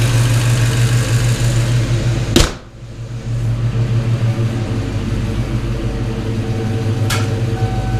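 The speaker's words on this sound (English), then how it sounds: "take her for a test drive." Engine of a 1993 Ford Mustang Cobra with a newly installed TKO600 transmission, a loud steady low drone heard from close by, cut briefly by a sharp thump partway through before the hum resumes.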